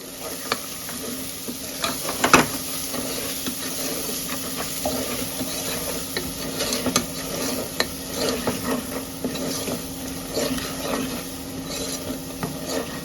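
Masala of chilli powder and spice powder frying in a pan for a green-chilli curry with eggplant and potato, with a steady sizzle and continuous scraping stir strokes, close and moderately loud, no voices.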